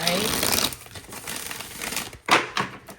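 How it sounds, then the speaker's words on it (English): A stiff deck of tarot cards is shuffled, giving quick crisp riffling and papery flicks in short bursts, with a person speaking alongside. "so far we got a stiff shuffle"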